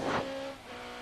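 A Toyota BTCC touring car on track gives a brief, loud engine burst that eases into a steady tonal drone, heard alone with no voices.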